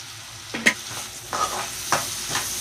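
Turmeric being stirred into tomatoes in a frying pan for a fish curry, heard as a few distinct scraping stirs spaced about a second apart over a faint, steady sizzle. No one speaks.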